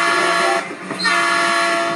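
In a Train Simulator mobile game, a train horn sounds over a steady rolling rail rumble. The sound is loud and close, and the horn briefly dips midway.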